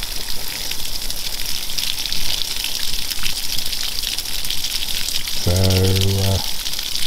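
Water gushes steadily from a pipe or tap as residual pressure in a pressure accumulator drains after the pump is switched off, a loud close continuous rush with a short low tonal hum near the end.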